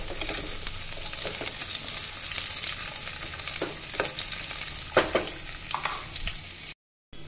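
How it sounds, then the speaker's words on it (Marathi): Bitter gourd fries in hot oil with a continuous close sizzle, broken by occasional spatula taps and scrapes as it is stirred; the sound cuts out briefly near the end. "आता आपण त्याच्यामध्ये कारलं टाकूया। हे छान परतून घ्यायचं आपल्याला"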